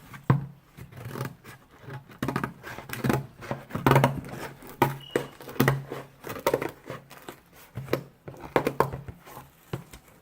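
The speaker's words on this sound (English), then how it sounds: "And then just cut your cardboard" Thick cardboard being cut by hand for a patriotic pineapple wreath craft, giving a run of close, uneven scraping and crinkling strokes with short pauses throughout.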